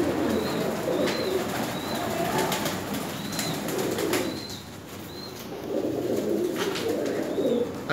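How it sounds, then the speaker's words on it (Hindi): Pigeons coo in repeated soft, rounded phrases in a pigeon loft in Karachi, with occasional wing flaps and faint chirps over a steady background murmur. "कबूतर है मेरा,"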